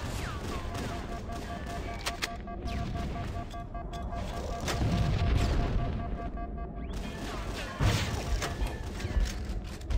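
Rocket launcher fire and explosions in the video game Halo CE, with repeated blasts, crashes and thumps over continuous game noise, rising in intensity toward the middle and end.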